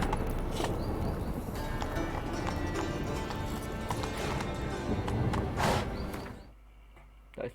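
Horse hooves gallop in The Witcher 3, a steady rapid clip-clop that runs almost unbroken, then cuts off near the end into near silence.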